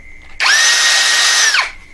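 An OSUKA OCD701-D1 5-in-1 cordless drill with an offset edge-drilling head whirs up sharply, holds a steady high whine for about a second, then spins down.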